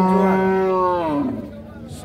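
Holstein Friesian dairy cow at a farm in Cumilla gives a single long, loud, close moo that falls in pitch and fades out, with a faint voice nearby.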